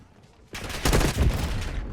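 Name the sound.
explosion and gunfire in Call of Duty video game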